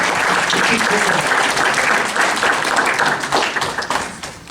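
Applause for a local historian at a youth, mayor and council meeting: dense crowd clapping that holds steady and loud, then thins and fades toward the end, with some voices mixed in.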